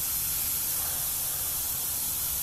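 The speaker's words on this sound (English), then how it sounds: "I'm putting on real thin, real light coats that are pretty much almost dry by the time they hit the model" An airbrush lays thin, light coats of blue paint onto a model with a steady, close, unbroken hiss of spray from start to finish.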